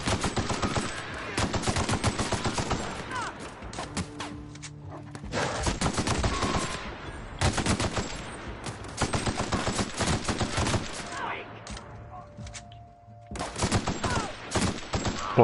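Rapid automatic weapon fire in The Outer Worlds video game, loud repeated bursts separated by short pauses, with no talk over it.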